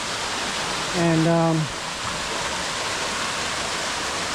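A waterfall at a canyon campground pours as a steady broadband rush throughout, with a brief spoken word partway through over the constant roar.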